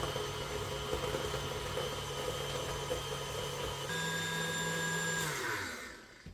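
A stand mixer beats traybake sponge batter in a steady, loud motor whir with a constant hum and tonal whine that rises in pitch near the end before the machine winds down and stops.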